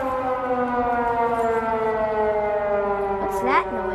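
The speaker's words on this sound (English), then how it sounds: "That's the tornado siren." An outdoor civil defense tornado siren sounds during a Saturday test, a loud sustained wailing tone holding steady, with a brief voice near the end.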